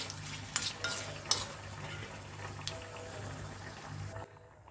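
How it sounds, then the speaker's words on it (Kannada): A special spice tempering sizzles in oil for a Sankethi Brahmin dish, a close, steady crackle with a few clicks of a spoon against the pan and a low hum underneath, with no talking. "ಇವಾಗ ಇದಕ್ಕೆ ಒಂದು ಒಳ್ಳೆ ಒಗ್ಗರಣೆನ ಹಾಕಿದ್ದೀನಿ ಸ್ಪೆಷಲ್ ಒಗ್ಗರಣೆ"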